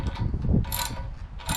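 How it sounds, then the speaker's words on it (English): A hand ratchet tightens the front axle nut on a Motovox minibike, giving a short burst of close metallic clicking and ratcheting that sounds alone for under two seconds. "Now we can go ahead and tighten up our front axle here."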